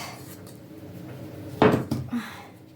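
A few brief scraping and knocking sounds of a utensil against a pot, close by, over a quiet kitchen background.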